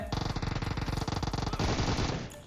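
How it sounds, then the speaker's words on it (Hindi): Rapid automatic gunfire in PUBG Mobile, a dense evenly spaced string of loud close shots that continues for about two seconds before breaking off. "और पीछे से भी फायर होने लग रही थी।"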